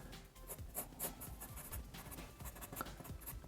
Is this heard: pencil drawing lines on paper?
yes